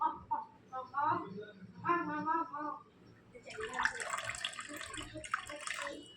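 A voice talks at first, then the soaking water is poured off soaked jowar (sorghum) flour, splashing noisily for a couple of seconds, close and uneven.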